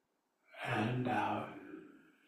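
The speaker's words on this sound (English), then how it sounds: "Inhale and exhale." A single deep breath during Taoist yoga, drawn in and let out as a loud, slightly voiced sigh lasting over a second and then fading gradually.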